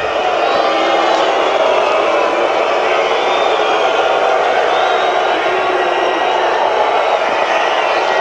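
Tennis crowd at a 2007 Sharapova versus Schnyder match reacting after Sharapova's first ace, a steady loud roar of cheering and voices sustained throughout without a break.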